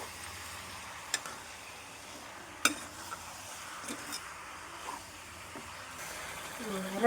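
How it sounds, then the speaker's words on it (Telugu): Chicken with turmeric sizzles steadily in hot oil while a spoon stirs it, scraping and clinking against the pan now and then, with a voice talking faintly over it. "ఇది ఇట్లా ఆయిల్లో మంచిగా ఇట్లా కొంచెం కలిపి మంచిగా ఉడకనివ్వాలి."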